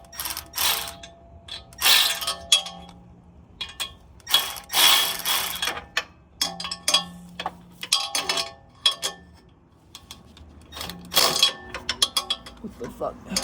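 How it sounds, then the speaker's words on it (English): A ratchet tightening Tomei UEL exhaust header bolts on a Scion FR-S gives bursts of close, rapid clicking in several short runs, with pauses and someone talking between them. "Now we're gonna fasten these only a little bit."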